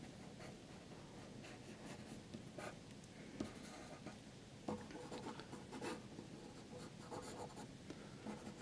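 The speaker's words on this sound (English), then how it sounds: "a medium pencil to get everything sketched in" Graphite pencil sketching on paper for a landscape study with a medium pencil, a quiet continuous scratchy rubbing with faint strokes and occasional louder taps, close up and without any voices.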